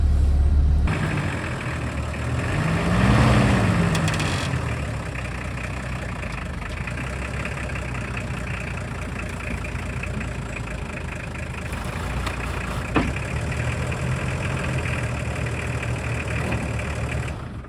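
A Nissan Patrol 260 engine idles steadily while the vehicle sits cross-axled on uneven ground, a low, even diesel rumble running throughout with a brief swell near the start.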